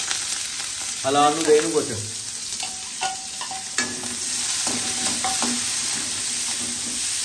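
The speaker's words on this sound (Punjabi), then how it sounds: "ਅਬ ਡਾਲ ਰਹੇ ਹਮ ਇਸਮੇ ਪਿਆਜ਼।" Onions frying and being stirred in a pan for noodles, a steady close sizzle with intermittent scraping strokes, while people talk briefly early on.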